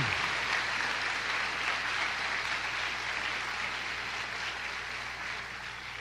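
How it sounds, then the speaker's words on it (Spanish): A church congregation claps steadily and densely, a continuous wash of applause that holds at full strength and tapers only slightly toward the end. "Denle un aplauso al Señor"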